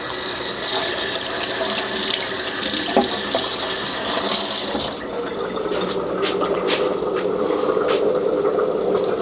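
A kitchen tap runs to rinse food for chicken soup, a loud close gush of water that drops to a softer, lighter flow partway through, broken by a few clinks.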